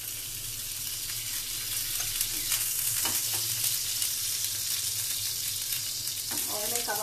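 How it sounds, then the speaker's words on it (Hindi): Amul ghee sizzles and fries steadily on a hot tawa griddle in a home kitchen, a continuous close crackling hiss with small pops near the end and no talk over it. "तो मैं इसे मैं इसमें तवे पे अमूल घी अप्लाई कर रही हूँ।"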